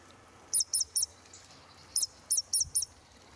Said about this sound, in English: These are all starlings.